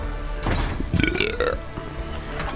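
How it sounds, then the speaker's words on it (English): A loud, drawn-out burp rumbles close to the mic during a gaming session, standing alone for a couple of seconds before fading out. "That burp was nasty."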